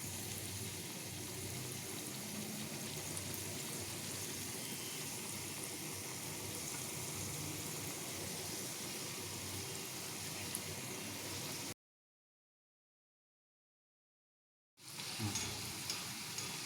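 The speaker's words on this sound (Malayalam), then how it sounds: "ഞാൻ ഈ നമ്മൾ പരത്തി വെച്ച ഈ പീസസ് ഞാൻ ഈ എണ്ണയ്ക്കകത്തോട്ട് ഇടാൻ പോവുകയാണ്." Diamond cut dough pieces frying in a small amount of hot oil give a steady, close sizzle that runs continuously, breaks into silence for a few seconds, then resumes.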